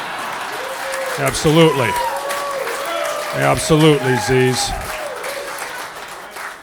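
Audience at a standup comedy show breaking into applause, a moderate burst of clapping under and between a comedian's amplified speech, close and fairly loud.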